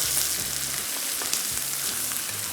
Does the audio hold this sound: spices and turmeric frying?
yes